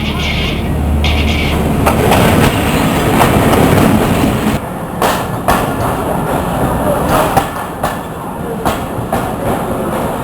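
A train runs loudly and close on its rails, with a continuous rumbling roar, rhythmic clickety-clack from the wheels and occasional sharp squeals, and faint voices briefly under the noise.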